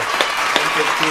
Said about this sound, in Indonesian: Keren, tepuk tangan dulu.